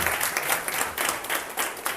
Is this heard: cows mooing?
no